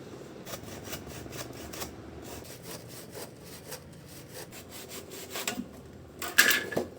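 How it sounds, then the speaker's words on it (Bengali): A green coconut is sawn and scraped open with a knife, rhythmic rasping strokes close and fairly quiet, ending in a sharper crack. "ডাবটা আমি কেটে নিলাম"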